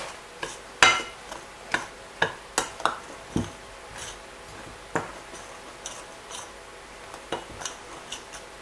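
Chin chin dough ingredients with baking powder being mixed in a bowl, giving a series of light, irregular clicks and taps of a utensil against the bowl, close and fairly quiet with no talk.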